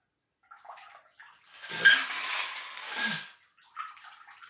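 A margarita of tequila, lime and triple sec is poured from a cocktail shaker through a strainer, giving a steady liquid splashing and trickling for a couple of seconds, moderately close, with faint clinks before and after.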